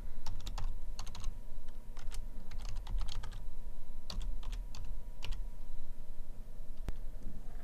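Fingers typing a password and email address on a computer keyboard, close and crisp, in uneven bursts of quick key clicks separated by short pauses over a low steady background hum.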